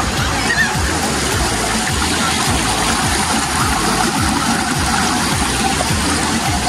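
Steady rushing water at Maria Nature's Park in Tayabas, Quezon, a loud constant churning flow like a stream or outlet, with a low engine- or pump-like rumble underneath.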